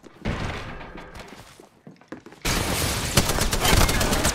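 Automatic gunfire in the Apex Legends video game: muffled shots and thuds at first, then a sudden loud sustained stretch of rapid fire filling the last half.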